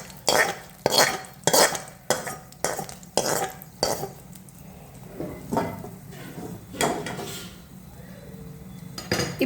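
A spoon stirs tempering into palak dal in a pot, giving a series of scraping, clinking strokes against the metal in an uneven rhythm, close and moderately loud.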